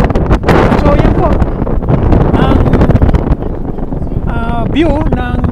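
Strong wind gusting on the Mount of Olives overlooking Jerusalem's Old City, buffeting loudly and roughly against the microphone throughout, with a voice briefly audible and some tonal chirps near the end.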